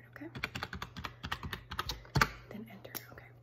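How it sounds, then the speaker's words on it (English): Rapid, irregular clicks of typing on a computer keyboard, close and soft, with a quiet whispered voice talking over them in a gentle secretary-training roleplay. "you can enter it on the right side of your keyboard"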